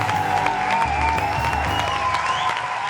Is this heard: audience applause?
yes